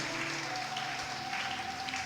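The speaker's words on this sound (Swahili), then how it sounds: "Patie Yesu makofi." Church congregation applauding during a sermon: a soft, steady patter of many hands clapping, faint and distant throughout the short stretch.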